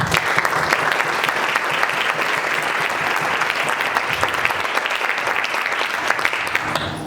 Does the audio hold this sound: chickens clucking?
no